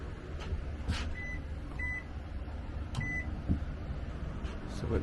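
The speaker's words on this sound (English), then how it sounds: "So we've got the microwave and the air conditioner running" Microwave oven running alongside an air conditioner on an off-grid setup powered by a 1480-watt, 640 Ah lithium system, a low steady hum with occasional short beeps and clicks, fairly faint.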